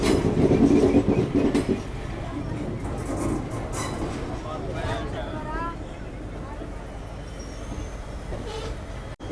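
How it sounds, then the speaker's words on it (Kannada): An express train pulls out of KSR Bengaluru City Junction, heard from inside as a rolling rumble with rhythmic rail clatter, under someone talking throughout. "ಡಿಪಾರ್ಟ್ ಆದ್ವಿ ರೀ ನಾವೀಗ ನಮ್ಮ KSR ಬೆಂಗಳೂರು ಸಿಟಿ ಜಂಕ್ಷನಿಂದ."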